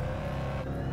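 A car driving in the VR game Thief Simulator VR, its steady engine hum and whir continuing evenly throughout with no talking.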